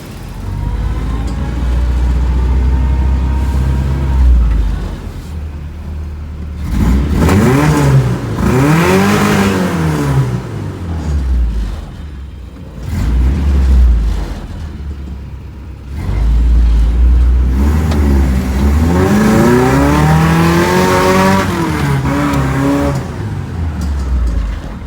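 An old Chevrolet Blazer driven around a yard, its engine revving up and easing off in repeated surges as it accelerates, loud and close, with rumbling between pushes and no voices.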